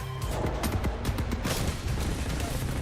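Video game combat in which a grenade blast and rapid gunfire merge into a dense, continuous roar of shots and booms, loud and unbroken throughout.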